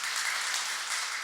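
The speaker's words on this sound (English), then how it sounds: "please give them a round of applause." A brief burst of steady audience clapping for sponsors at a social media breakfast event, a short moderate wash of applause.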